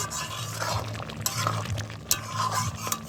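Goat head meat and fat are mixed with green and dry chillies in a pot, giving soft stirring, squelching and occasional clinks of utensil on metal, fairly quiet and close.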